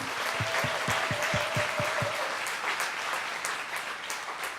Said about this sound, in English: let's just give her a round of applause for her last recital